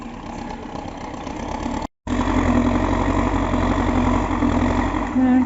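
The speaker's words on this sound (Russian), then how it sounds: "пытается пробиться на тракторе с рулоном в кормушку коровам" An MTZ tractor engine runs steadily in a snowstorm as it pushes through deep, wet snow carrying a hay bale, a constant low drone with a brief dropout partway through and a faint whine near the end.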